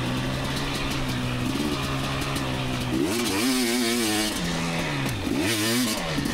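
A 2019 KTM 250xc two-stroke dirt bike putters steadily up close, then its engine revs in two sharp wavering bursts, one after the other.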